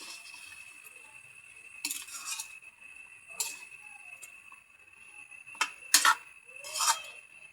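A cooking pot being stirred, with a utensil clinking and scraping against the pot in a few sharp, separated bursts over a quiet background, with no talking.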